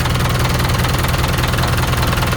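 A Ford TS90 tractor engine idles steadily up close, a loud, even diesel chug with a continuous rhythmic throb.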